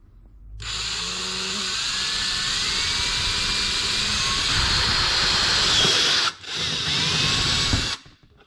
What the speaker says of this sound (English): And we just simply drill.